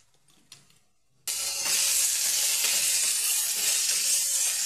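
Onions and potatoes hit a hot pan in a village kitchen, breaking into a loud, steady sizzle after a brief quiet start with a few small clatters, and the frying hiss holds strong to the end.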